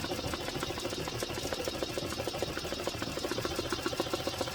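A BAI embroidery machine stitches underlay on a hat at low speed, giving a steady, dense mechanical chatter of rapid needle strokes that runs unbroken at moderate loudness with no voices.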